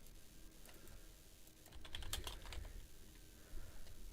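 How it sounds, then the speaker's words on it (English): A single Q key pressed on a computer keyboard amid a run of soft, close typing clicks during a game demo, with a small cluster of taps in the middle and no talking. "I'll hit Q."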